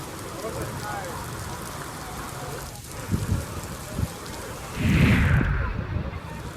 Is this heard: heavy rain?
yes